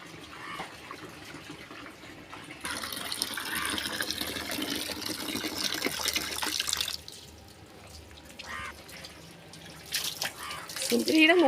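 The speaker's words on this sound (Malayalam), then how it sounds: "കൊച്ചിൻ്റെ മുഖത്ത് വെള്ളം ഒഴിക്കും" Water splashes and pours steadily, like a tap filling a bucket, while a child is bathed, loud and close, with talking heard over the gushing in places.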